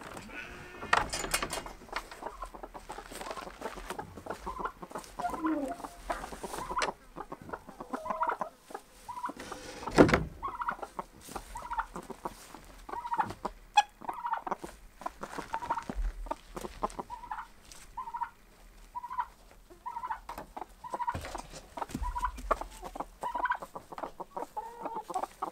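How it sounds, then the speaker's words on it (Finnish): Chickens and turkey poults are let out into a farmyard on a Finnish homestead, making a busy, continuous chorus of clucks and high peeping calls close by, with occasional louder squawks throughout. "Sieltä meinaa kalkkunatiput ja kertuntiputkin tulla vähän ulkoille."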